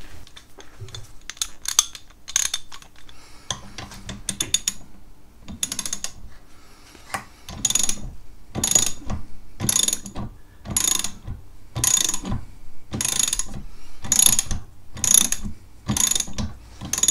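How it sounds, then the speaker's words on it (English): A ratchet tightens an M10 nylock nut onto an e-kart wheel hub in close, loud bursts of rapid clicking. The sharp ratchet strokes repeat in a steady rhythm with brief pauses between them. "we'll just put this little M10 nylock on, just to hold that wheel hub in place."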